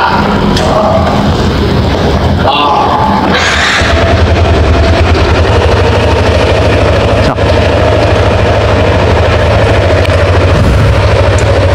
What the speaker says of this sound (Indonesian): mesin sepeda motornya sudah nyala ya